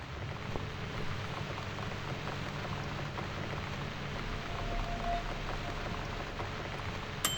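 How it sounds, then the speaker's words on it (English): Steady rain falls in the horror video game The Cat Lady, a soft, even hiss of drops that continues unbroken throughout at low volume, with no voices. "It's kind of peaceful listening to the rain"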